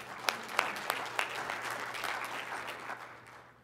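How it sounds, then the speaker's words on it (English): Audience applause for a speaker at a Lyme disease innovation roundtable run by HHS, a steady indoor clapping that thins out and fades near the end, with a few sharper claps standing out early. "Let's give a round of applause for Lorraine Johnson."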